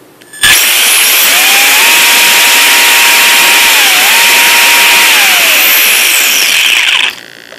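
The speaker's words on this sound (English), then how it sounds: "I'll show you full throttle now." The electric motor of an HPI Sprint 2 drift and touring RC car runs at full throttle, a loud, close, high-pitched whine that starts abruptly, holds steady for about six and a half seconds with a slight dip midway, then cuts off.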